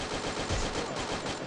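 Rapid automatic gunfire in the Free Fire battle royale video game rattles in a dense, continuous burst, loud and close, without talk over it.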